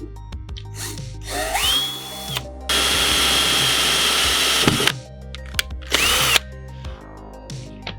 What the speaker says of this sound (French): Ensuite, on va percer nos trous.